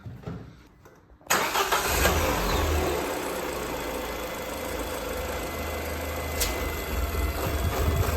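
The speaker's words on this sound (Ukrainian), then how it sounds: "І запускаємо двигун на цій рідині" A car engine cranks briefly then catches and starts while running on fuel-injector cleaning fluid, settling into a steady, loud idle that continues to the end with a slight rev near the close.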